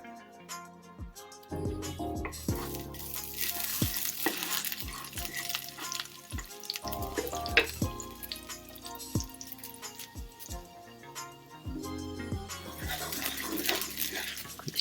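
Garlic sizzling in hot olive oil in a pan, a steady frying hiss carrying through with intermittent clinks and low knocks of utensils, close and moderately loud.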